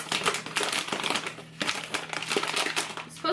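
Crinkly, crunchy scraping as M&Ms are folded into cookie dough, in close, repeated bursts with short pauses between strokes.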